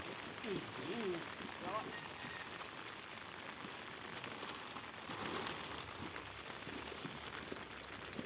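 Steady rain patters on a surface throughout, a soft continuous hiss with occasional faint voices mixed in.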